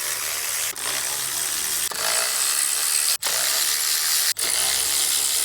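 A ratchet fitted with a 5/8 spark plug socket works loose the Motorcraft platinum spark plugs on a Ford, making a loud, continuous rasping whir broken by four short pauses.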